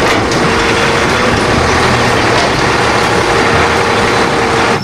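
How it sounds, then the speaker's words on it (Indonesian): A garbage truck's diesel engine runs loud and close, a steady heavy rumble with broadband roar throughout and no talk. "ini mobil truk pengangkut sampah"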